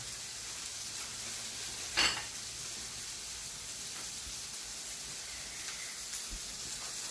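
Eggs mixed with a little cheese fry in a pan, giving a steady soft sizzling hiss throughout with one brief stir or scrape.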